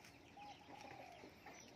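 A fighting rooster clucking inside a coop on a farm where such birds are raised. The soft, scattered clucks sit faintly over a low background hum.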